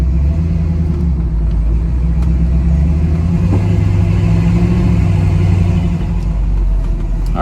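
A 1967 Chevrolet Camaro set up for pro touring cruises along a road, its engine a loud, steady low rumble from inside the car that holds an even drone throughout with slight shifts in pitch.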